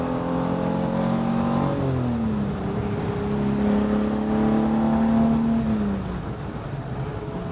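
A 1966 Ferrari 275 GTS engine pulls hard in second gear on the road, heard from inside the car, loud and continuous, its pitch rising, dipping at a shift, then climbing again.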